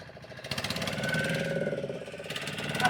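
A fishing raft's engine, reported to have a problem, runs steadily with a throbbing, knocking idle rhythm throughout, fairly close and continuous, with no talk over it.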